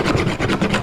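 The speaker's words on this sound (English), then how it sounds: "I just take an old dive knife, it's not very sharp, and scrape the paint like so" An old, fairly dull dive knife scrapes paint off a wooden decoy in steady back-and-forth rasping strokes, close and loud, with no talk.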